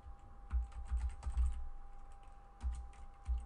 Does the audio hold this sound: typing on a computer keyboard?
yes